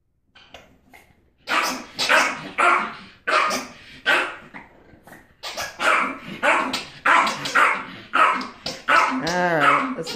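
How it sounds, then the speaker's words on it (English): A frisky dog barks repeatedly in bursts while playing fetch with a blue ball, loud and close, with a few yips and a playful growl mixed in. "let's not let him bark too much"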